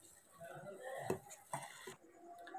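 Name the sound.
mashing and mixing banana flower vada batter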